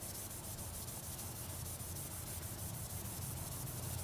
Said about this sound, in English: we're just going to mix up a slurry. And we're going to start by doing this by hand. And I'm going to rub mostly from end to end